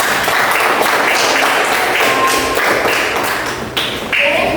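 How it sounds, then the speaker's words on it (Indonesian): A classroom of students applauds a group after its presentation, a dense burst of clapping mixed with taps and thumps that stays loud and steady throughout. "Tepuk tangan buat kelompok."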